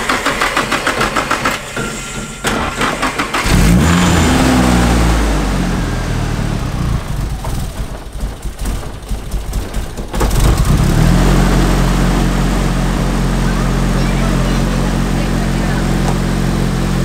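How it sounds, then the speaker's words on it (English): A car engine fitted with a new top-mount turbo setup runs loudly, idling with a steady low drone and a few rev changes partway through, with a brief break in the middle before it settles back into a continuous hum. "Man, it sounds like a completely new motor."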